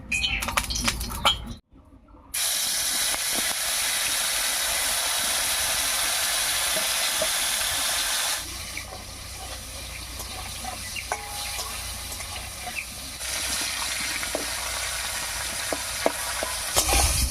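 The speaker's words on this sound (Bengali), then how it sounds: "তেল গরম হয়ে গেছে এবার মাছটা ভেজে নিচ্ছি" Dried fish (shutki) fries in hot mustard oil in a kadai, a continuous close hissing sizzle that starts after a brief pause, softens midway, and carries faint metallic scraping and clicks.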